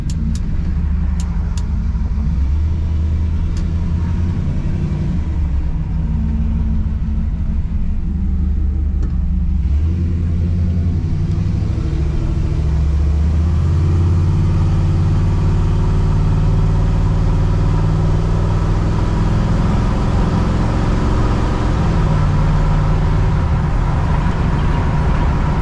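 A 1957 GMC pickup truck cruising at 60 mph, its engine droning low and steady under broad road and wind rumble, with a few faint clicks early on and no talking.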